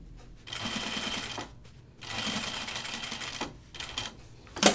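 Sewing machine stitching denim for a pair of jeans: close bursts of rapid mechanical needle chatter, each lasting a second or two, separated by short pauses.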